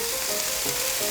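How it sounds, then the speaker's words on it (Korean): Marinated carrots stir-frying in a pan with leftover oil and no extra oil added, a steady close sizzle and crackle running evenly throughout, with no talk. "아까 재워둔 당근을요 또 살짝 볶아볼게요"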